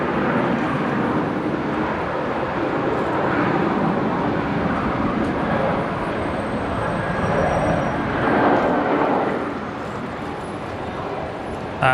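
A Qantas airliner from Perth touching down on runway 01 right at Brisbane International Airport makes a loud, steady broadband roar that swells slightly near the end.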